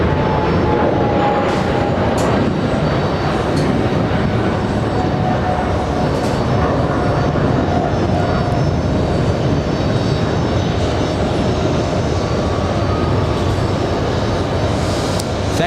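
An Air China Cargo Boeing 777 taking off at JFK, bound for Shanghai, a loud sustained jet roar with broadband rumble and a thin whine that holds steady throughout, without voices.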